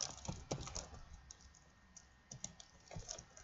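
Code is typed on a computer keyboard in quiet, faint, irregular clicks and taps, with small bursts of keystrokes scattered across a few seconds and no voice.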